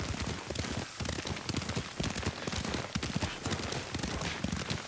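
Horse hooves beat in a rapid, continuous clatter while riding in the video game Ghost of Tsushima, close and busy with a hissing, rain-like wash behind them.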